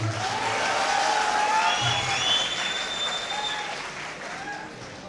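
Audience applause at a kavi sammelan mushaira poetry gathering held at BRD Medical College, Gorakhpur; a steady, dense wash of clapping fills the whole stretch, loud at first and easing slightly toward the end.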